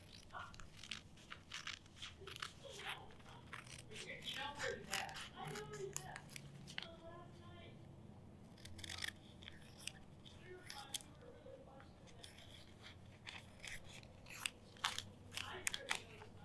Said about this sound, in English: we're going to cut out our shapes